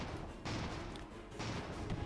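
Repeated explosions in an airship battle from the game Airships: Conquer the Skies, with two broad bursts of noise rising over a steady dense rumble of combat, fairly faint overall.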